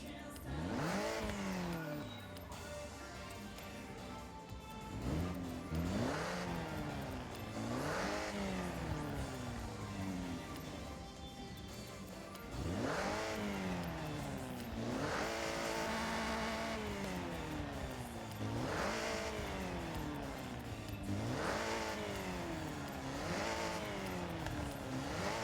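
In Forza Horizon, a supercharged car engine revs hard and close, rising through gears again and again in repeated climbing sweeps with brief drops between shifts. No voices cut in.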